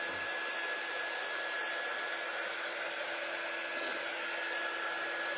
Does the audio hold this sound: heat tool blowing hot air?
yes